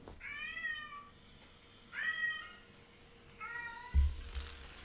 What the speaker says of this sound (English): That cat's having a whole conversation